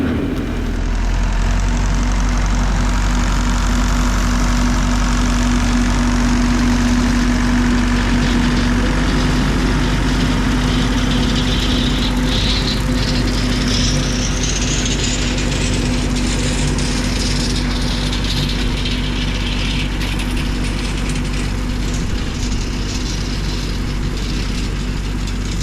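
A Massey Ferguson 65 tractor runs steadily with a slasher attached, its loud, close diesel engine a constant low rumble with a faint whine rising partway through, no voices.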